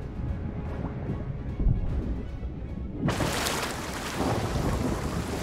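A thunderstorm at sea in Sea of Thieves: rain rumbles steadily with a thunder boom, then a sudden loud crack of lightning unleashes a broad, harsh roar that stays heavy to the end, with no talk.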